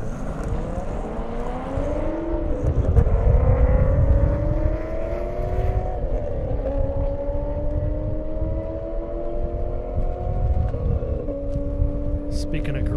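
A Corvette Z06 and a Mercedes E63S AMG launch down an airstrip at the 2023 Indy Airstrip Attack, engines droning and climbing in pitch through several gear shifts, loud and sustained beneath a talking announcer.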